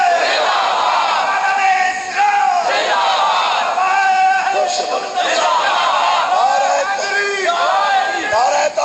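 A large crowd at a Sunni conference loudly roars the religious slogan nara-e-Haidri in repeated call-and-response bursts, with a leader's shout answered by many voices at once, dense and continuous throughout.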